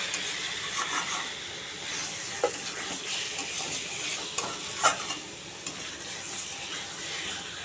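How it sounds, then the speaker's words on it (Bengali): Eggs and boiled potatoes stir-fried in a pan for home-style egg biryani: a soft steady sizzle with scattered scraping and clinking of the spatula against the pan, close but fairly quiet, no voices. "এবার ডিম আলুটা ভালো করে কষিয়ে নেব একটু।"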